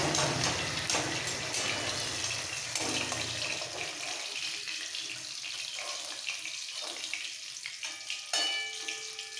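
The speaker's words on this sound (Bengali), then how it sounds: "বাকি মাছগুলো ভেজে নেবো" Pieces of rohu fish frying in oil give a loud, continuous sizzle that gradually eases, with occasional spatters and clinks nearby and no talk.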